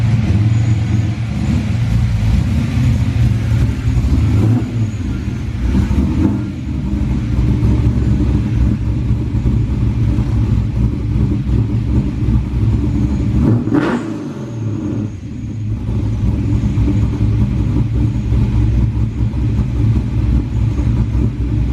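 A car engine rumbles and revs continuously at close range, surging at a few points as the vehicle moves. No one speaks.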